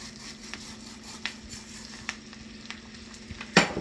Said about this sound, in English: I'm going to put my 1 cup of rice in there